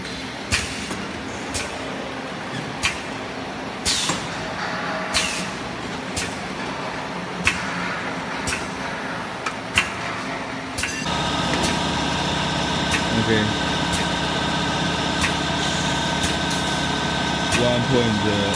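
Perfume filling and capping machine on a test run, first a series of sharp periodic clacks, then a steady mechanical hum that settles in and continues to the end.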